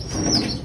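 Sambalpuri pigeons in a home loft, with a quick burst of flapping wings and a soft, close coo in a brief moment.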